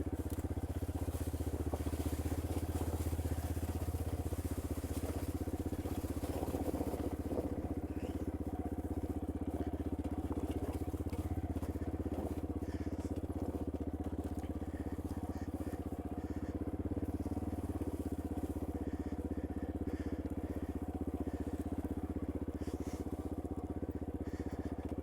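A Yamaha XT250 motorcycle rolls down a steep pea gravel hill, its single-cylinder engine running low and steady while tyres crunch and scrape loose gravel throughout, loud and close with no talking.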